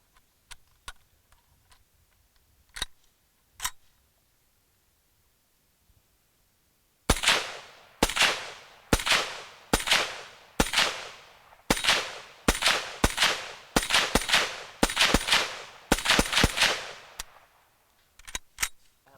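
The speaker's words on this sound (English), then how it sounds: "I love the sound of this gun." An Inland M1 Carbine Paratrooper rifle fires .30 carbine rounds: a few scattered shots, then a fast, evenly spaced string of about a dozen sharp cracks, loud and close, with no talking.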